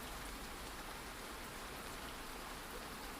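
Steady rain falls in a backyard, a soft even hiss of drops that runs without a break and without voices.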